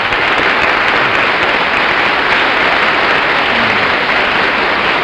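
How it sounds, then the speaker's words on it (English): A 1950s television quiz show studio audience breaks into sustained applause, a loud, dense, even wash of many hands clapping that holds steady for the whole stretch with no talk over it. "If you want to applaud."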